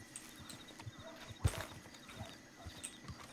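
Horse hooves clip-clop in a video game, a scatter of soft hoof falls with one sharper thump, faint and close amid quiet ambience.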